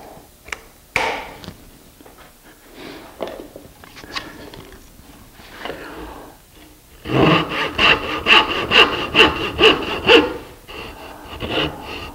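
A hand saw cutting dovetails in wood, heard as quiet scattered scraping at first, then a run of loud, steady rhythmic rasping strokes near the end.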